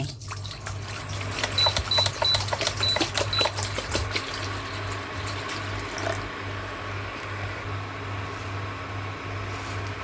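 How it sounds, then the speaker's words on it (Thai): Drinking water runs and splashes into a cooking pot with a liquid rush, accompanied by a steady low mechanical hum that fades as the pour eases. "เทลงไปในหม้อเลยค่ะ เปิดเตาได้เลย"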